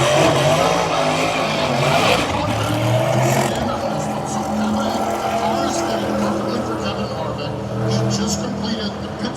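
A NASCAR race car rolls down pit road after refuelling, its engine a steady rumbling drone with shifting pitch, nearby and fairly loud, with broad noise around it throughout.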